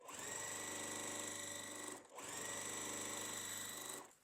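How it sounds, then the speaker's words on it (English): A sewing machine stitches quilt block pieces in two sustained bursts of fast, even humming and clattering, separated by a brief pause, close and steady with no voices. "So we're going to sew on our last 2 sets."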